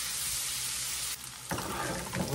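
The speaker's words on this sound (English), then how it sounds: "we're going to stir these around in here and let them kind of get sauteed up" Mushrooms and beef sauté in a hot pan with a steady, bright sizzle, broken by stirring scrapes and shifting crackle partway through.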